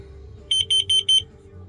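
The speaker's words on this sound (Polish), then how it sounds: "Czujnik dymu" A smoke detector sounds four quick, piercing high-pitched beeps in a steady rhythm, close by, over a low background hum.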